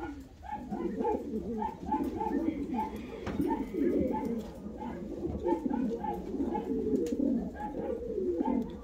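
Fancy show pigeons of the Hünkari breed cooing in a loft, repeated rhythmic low coos from several birds layered over one another, close and fairly loud, with someone talking over them.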